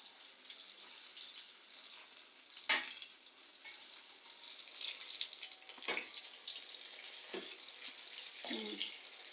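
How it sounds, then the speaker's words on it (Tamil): Kerala palampuri (ripe plantain fritters) frying in a pan: a steady, soft sizzle and crackle of oil, with a few louder bubbling bursts and light stirring or turning noises. "நல்லா ஃப்ரை ஆகிட்டு இருக்கு."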